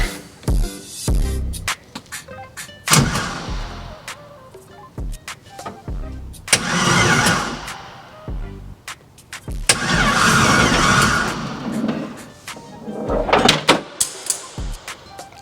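A 5.3 L engine in a Honda Civic being cranked without starting in several repeated bursts of whirring starter noise, with pauses and clicks between attempts, loud and close.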